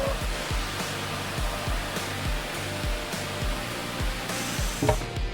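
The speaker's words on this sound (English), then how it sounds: "we're going to use this huge machine to sand the final piece of plank" Large power sander running steadily over an Iroko timber plank, a constant loud broadband roar with faint rhythmic pulsing throughout, close by and without speech.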